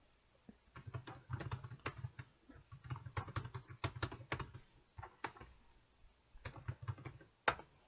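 Fingers type on a computer keyboard while entering spreadsheet text, bursts of quick close key clacks with short pauses between runs.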